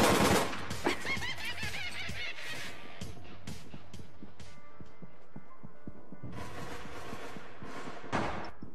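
Rapid automatic gunfire in APB Reloaded, loud bursts of sharp shots crowding the first few seconds, then scattered single cracks and another heavy burst near the end.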